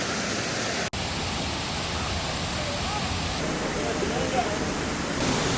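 Waterfall in the Kanyakumari area, a constant dense roar of falling water that holds steady and loud throughout, with no other sound standing out.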